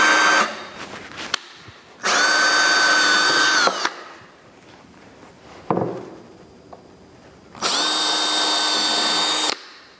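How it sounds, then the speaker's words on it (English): A power drill bores into a 2x6 wood board during a saw fence build, two long loud whining bursts of drilling separated by quieter handling and setup noises, with no talk. "I'm going to be drilling into a 2x6."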